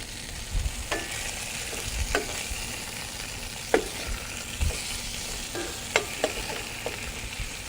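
Onion, garlic and tomato aromatics browning together with meat in a hot pan, a steady close sizzle broken by repeated scraping stirs, with no one talking.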